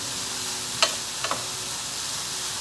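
Swiss chard gratin ingredients simmer in a pan, giving a steady soft sizzle with a couple of brief clinks or scrapes from a flat spoon, close and without talk.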